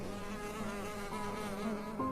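Swarm of honey bees buzzing in a steady, droning hum with wavering pitch, fairly faint and continuous throughout, with no voices.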